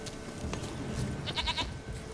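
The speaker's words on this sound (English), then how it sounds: "Stubborn goat." A goat in The Witcher 3 video game gives a short, quavering bleat near the end, fairly close, over a low steady game ambience.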